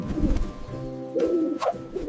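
A pigeon coos in low, throaty warbling phrases, fairly close and clear, with a couple of rolling calls across two seconds and no voices over it.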